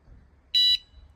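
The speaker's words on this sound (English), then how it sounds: "wait for it to make another beep" A single sharp, high-pitched electronic beep from a Tentbox rooftop tent alarm being armed sounds once, lasting about a quarter second, clear against near silence.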